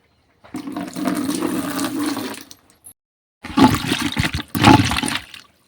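Tap water gushes loudly in two strong bursts over kitchen dishes being washed, separated by a short pause, with no one speaking.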